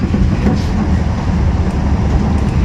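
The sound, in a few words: riding an Italian local AC train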